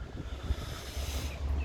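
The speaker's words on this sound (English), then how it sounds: "It's very windy today." Gusty wind rumbles against the microphone in low, uneven bursts, steady and close, with no voices.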